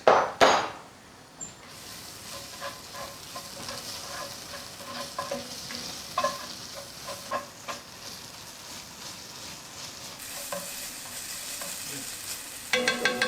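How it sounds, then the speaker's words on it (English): Red beetroot borscht ingredients stirred together in a pot, a continuous soft sizzle with repeated spoon knocks and scrapes, a louder clatter at the start, no voices. "Then mix all ingredients"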